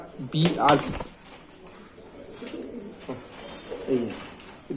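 Light-coloured male pigeon cooing in soft, low bursts, one stronger call early then a few quieter coos, with a person talking nearby.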